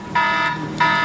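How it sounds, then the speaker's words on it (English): A timer alarm sounds at the twelve-minute mark, two loud electronic beeping bursts with a steady tonal buzz and a brief dip between them, heard alone without talk. "that was the alarm going off saying that we've hit the 12-minute mark"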